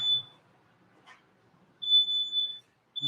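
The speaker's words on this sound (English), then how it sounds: "That is one sensitive smoke alarm." A kitchen smoke alarm beeps in bursts, with one brief chirp at the start, a longer stretch of piercing tone midway and another beginning at the end. Quiet gaps fall between the bursts.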